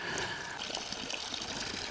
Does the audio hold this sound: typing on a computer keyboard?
no